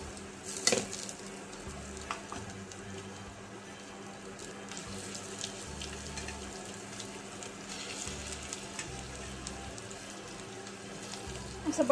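Boiled potato is stirred into vada pav filling frying in a pan. It makes soft, steady scraping and a low sizzle, with brief clinks of the utensil.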